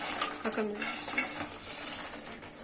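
Fried idli pieces are stirred with cornflour and maida in a bowl, giving a run of quick clinks and scrapes of a utensil against the dish, close and busy over a faint background sizzle.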